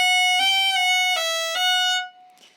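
Slow turn ornament on a fiddle: a few bowed notes step smoothly up and down in an even, unhurried rhythm, close and clear with no talking, then fade into quiet.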